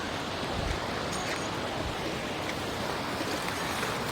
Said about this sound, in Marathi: नर्मदेला मिळणारी छोटीशी नदी ह्या नदीतून रस्ता काढून